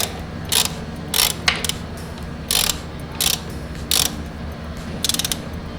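A ratchet tightening a suspension linkage bolt on a Suzuki GSX 150 motorcycle, several short bursts of close clicking strokes with pauses between them, over a steady low background hum.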